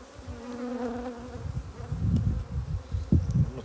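Honey bees buzzing around an open hive of heather honey, a close, steady insect drone with a clear hum and faint bumps and knocks of hive handling underneath.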